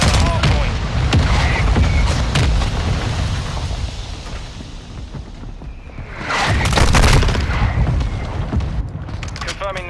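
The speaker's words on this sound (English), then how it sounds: "Hostile mortar strike in the area. Throwing grenade, frag out!" Explosions from grenades and mortar strikes in the Call of Duty MW2 video game, with dense gunfire throughout and a heavy boom cluster about two-thirds of the way in, under some speech.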